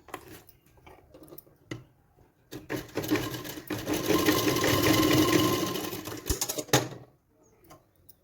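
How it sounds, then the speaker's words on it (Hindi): A sewing machine stitches a small fabric strip for a blouse back neck. Short needle bursts come first, then a long loud continuous run of rapid stitching, followed by a few brief stops and starts, with no voices. "इस तरह से हम इसे भी सिल लेंगे।"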